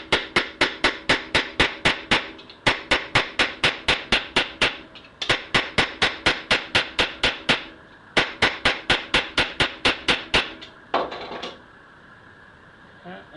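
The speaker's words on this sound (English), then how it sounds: "just tap, and I come in maybe 1/4 to 1/2 inch, but tap very evenly all the way around the edges" A hammer tapping evenly around the edges of a plate for an HHO dry cell, quick sharp metallic taps in steady runs of about a dozen, separated by brief pauses, close and loud.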